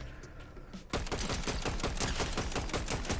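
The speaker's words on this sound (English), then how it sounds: "And now he's shooting the bush." Rapid gunfire erupts in a battle-royale game replay as a player sprays shots into a bush, a loud, dense volley of cracks starting about a second in and continuing without pause, with no voices.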